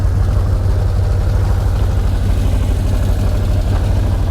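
A Can-Am off-road vehicle's engine idles with a deep, steady rumble, low and continuous, with an even pulsing throb and no voices over it.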